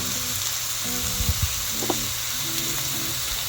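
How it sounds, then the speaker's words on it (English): Steady, crackling sizzle of ground turkey frying in a hot pan, with a few light knocks and scraping sounds against the cookware. "throw our ground turkey into the pan"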